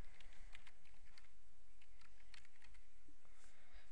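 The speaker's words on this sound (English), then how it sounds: "so I'm just going to start typing" Rapid, uneven clicking of keys on a computer keyboard, steady typing close by with no voices.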